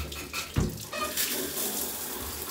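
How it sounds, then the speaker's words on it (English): A newly installed shower head turned on, with a knock of the valve followed by a steady, close hiss of running water spraying alone. "we turn on the shower to see if it works"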